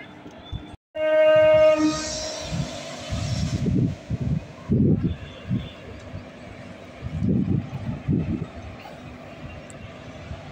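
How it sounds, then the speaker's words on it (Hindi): A train departs a station on the Sitapur rail section, opening with a loud sustained horn blast, then heavy diesel engine rumble and wheel clatter as it pulls away, with voices talking faintly over it. "ट्रेन अब जा रही है अपने अगले स्टॉप की तरफ बख्शी के तालाब"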